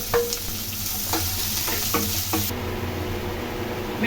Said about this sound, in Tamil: ஆனியன் போட்டு கொஞ்சம் நல்லா வதக்கட்டும்.